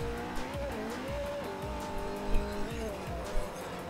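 Car driving in Forza Horizon 4, a steady engine drone with shifting pitch as the car corners, broken by brief tire noises and bumps, with no talk.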